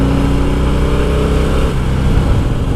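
A loud Harley-Davidson Heritage 114 engine with stock exhaust rumbles close by, its pitch shifting as it revs and then settles into a deep idle.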